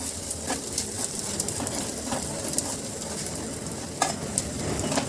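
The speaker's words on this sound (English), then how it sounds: "And mix all the ingredients well." Poppy seeds and curry leaves are stirred in a frying pan for Mangalore-style mutton sukka: a steady close sizzle with scattered spatula scrapes and clicks throughout, no voices.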